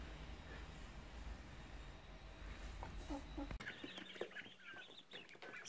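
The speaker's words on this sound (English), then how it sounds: "So here's an update on the little quail chicks." Two-week-old quail chicks in a brooder give faint high peeping chirps, scattered and irregular, after a stretch of low rumbling background noise.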